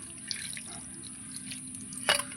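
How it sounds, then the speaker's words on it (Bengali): Cold water poured over chhena to rinse it while making rasgulla, a faint, quiet trickle and drip that ends in a short, brighter splash. "এই যে ঠান্ডা জল ঢেলে দেব যাতে ভিনিগারের গন্ধটা না থাকে"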